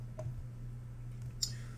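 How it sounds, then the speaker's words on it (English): A single key press on a computer keyboard, the print screen button, gives a short sharp click near the end, with a fainter tap earlier, over a steady low electrical hum. "take a screenshot by hitting our print screen button on our keyboard"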